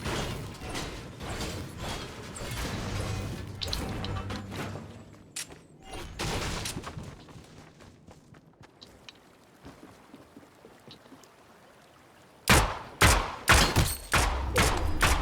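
Pistol gunfire in the video game Fortnite: a cluster of sharp, loud shots near the end, after a stretch of clattering mechanical game sounds and softer thumps.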